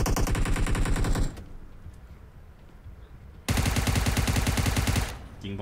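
Loud, rapid automatic gunfire from the mobile battle royale game PUBG Mobile, one sustained burst, a pause with quiet background, then a second long burst.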